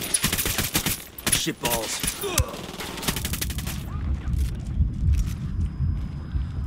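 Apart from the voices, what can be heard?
gunfire in the video game Ghost Recon Wildlands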